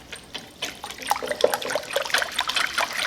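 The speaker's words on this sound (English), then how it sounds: "I'm gonna use olive oil, nice olive oil, and we're gonna slowly kind of stream this in." Olive oil streams slowly into a bowl while making a Caesar salad dressing, a soft, continuous liquid trickle that swells slightly and keeps up the whole time, close by with no talking.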